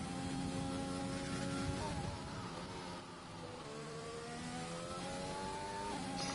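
A Williams race car engine howls through a lap in a racing video game, revving high and steady, dipping briefly as it shifts down through a corner, then climbing again, heard alone and close.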